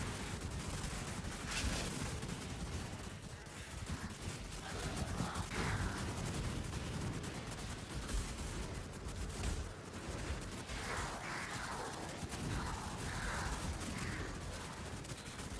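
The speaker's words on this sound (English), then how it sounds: "Oh, they shoot mortars?" Mortars fired in Path of Exile, a dense fusillade of booming blasts and crackling impacts layered over constant game noise and effects for the whole stretch.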